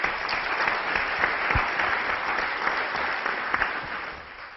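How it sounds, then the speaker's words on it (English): Sustained applause from a tech conference audience, thick and continuous with a few sharper individual claps standing out, holding steady before easing slightly at the end. "so big applause for them as well."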